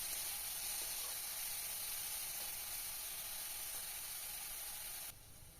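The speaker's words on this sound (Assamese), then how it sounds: "এইখিনি মই এতিয়া অকণমান ৰঙচুৱাকৈ ভাজি ল'ম" Ginger, garlic and onion fry in oil, browning lightly, with an even, faint sizzle that holds steady, then drops off abruptly just before the end.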